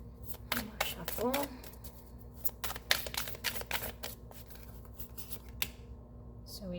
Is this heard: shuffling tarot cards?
yes